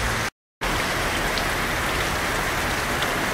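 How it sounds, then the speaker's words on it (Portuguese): Steady rain drums on a bronze polycarbonate carport roof with a multiwall alveolar panel system, a dense, even hiss of drops close overhead with a brief dropout near the start. "aqui você percebendo a chuva caindo"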